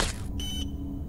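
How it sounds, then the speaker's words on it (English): Electronic beeping from a horror video game, a few steady high tones switching on and off in short bursts, fairly quiet over a constant background hum, with no talking. "This crazy beeping sound."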